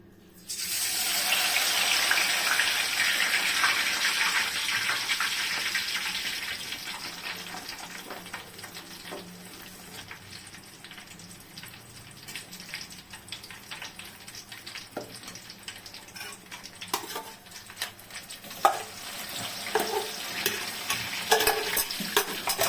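Crushed amla and black cumin go into hot, smoking oil for homemade hair oil, setting off a loud sizzling burst that gradually settles into softer crackling and bubbling, with occasional scraping stirs.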